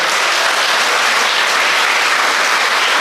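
An audience at a lecture on Rani Abbakka bursts into loud, dense applause, a steady wash of many hands clapping throughout with no voices on top.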